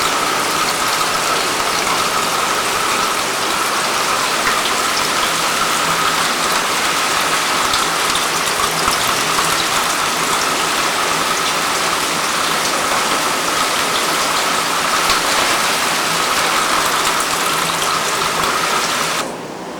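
Dense, steady rain from Hurricane Charley in 2004 roars without pause, a loud broadband wash with a faint rattling texture, like a downpour hammering a street and vehicles close by.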